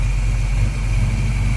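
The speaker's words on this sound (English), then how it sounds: "Idling down a little bit there after warmed up." A 1981 Chevrolet Camaro Z28 with a 350 V8 idling after warm-up, a steady low rumble with a faint high whine, heard close and unbroken with no talk.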